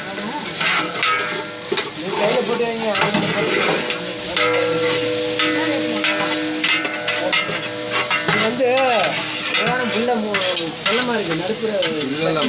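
Onion and tomato frying and being stirred in a pan for mutton chukka, with a steady loud sizzle and repeated scraping stir strokes throughout, no talking.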